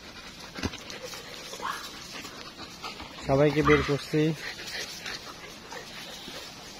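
Dogs pant nearby and let out a short burst of whimpering whines in the middle, while someone talks over them.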